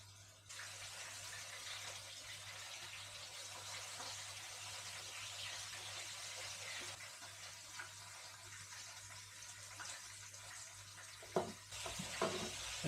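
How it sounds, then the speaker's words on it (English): Steady broadband sizzle of whiting fillets frying in oil, continuous and close, with a couple of brief clatters near the end. "Shallow frying tonight, basically, like a little bit more oil than shallow fry"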